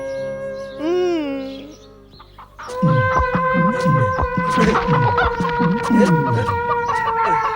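A hen clucks loudly and repeatedly in a rapid, choppy rhythm, with other fowl squawking close by in a rural scene from an action film; a brief rising tonal call comes just before.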